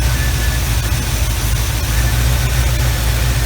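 A 1975 Chevy Camaro engine idles steadily, a continuous low rumble with a noisy, even texture throughout, close and fairly loud with no talk.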